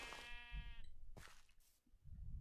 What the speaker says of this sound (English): guess that's a sheep, not a tree.